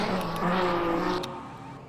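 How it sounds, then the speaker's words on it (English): A Peugeot hypercar leaves the pits in a Le Mans racing game, a steady mid-distance engine drone with a faint whine that holds and then fades slightly toward the end. "This is the Peugeot of Paul di Resta coming out of the pits."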